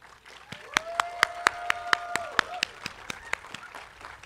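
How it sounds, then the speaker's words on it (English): Graduation-ceremony audience applauding after an award announcement, with a few sharp distinct claps standing out in a steady rhythm over a thin, moderately distant crowd clapping, plus a brief tonal whistle-like sound midway. "Please join me in a round of applause."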